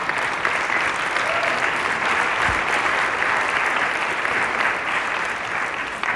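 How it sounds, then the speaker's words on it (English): Sustained applause from a large audience, a dense, even wash of clapping that carries on loudly for several seconds. "I appreciate your applause."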